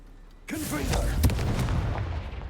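A Confringo fire spell in Hogwarts Legacy launches with a sudden loud boom and crackling burst, then a rumbling tail. It follows a short voiced grunt.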